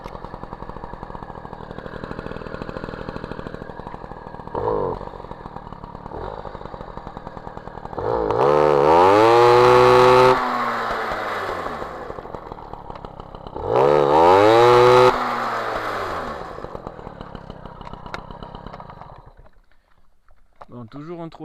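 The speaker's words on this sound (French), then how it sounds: "toujours un trou à l'accélération et ça broute à haut régime" An MBK 51 Magnum moped engine fitted with a 15 PHBG carburettor idles roughly, then revs up loudly twice with rising, falling whines, close by, while someone talks over it.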